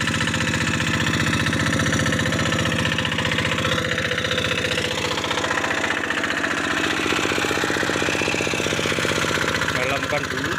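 G1000 Boxer hand tractor engine running steadily and loud while forming ridges in a rain-fed field, a continuous rapid chugging throb filling the whole stretch with some voice mixed in.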